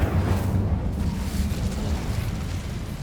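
Confringo and Incendio spells explode in Hogwarts Legacy, making a deep, rumbling blast that rolls on steadily for about three seconds, fairly loud and full in the low end.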